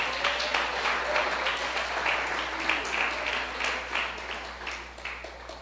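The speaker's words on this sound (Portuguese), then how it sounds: "Uma salva de palmas para Ele." Congregation applauding during a church service: sustained clapping from many people at moderate level, steady throughout and tapering slightly at the end, with a low hum underneath.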